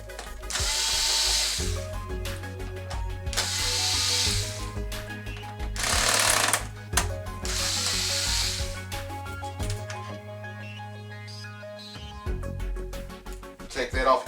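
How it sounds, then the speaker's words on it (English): A power drill on a low torque setting backs bracket screws out of a Sony XBR-55X850C television, with several loud whirring bursts separated by pauses and a person talking throughout. "make sure, because these screws will strip very easily, that you put your drill on a low torque setting and kind of press firmly down."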